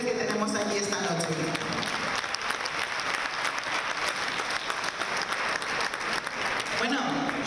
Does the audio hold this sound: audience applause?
yes